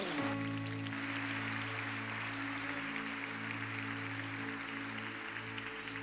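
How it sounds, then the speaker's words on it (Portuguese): A congregation at a Sunday morning service in a Baptist church applauds in a steady, continuous wash of clapping that holds at an even level throughout, with sustained musical tones ringing underneath. "Dê um aplauso ao Senhor."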